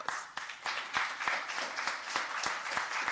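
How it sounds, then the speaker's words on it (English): A room audience at a Jamaica Accountability Meter Portal live event applauds quietly and distantly, a soft continuous patter with a few sharper claps standing out. "it demands a big round of applause."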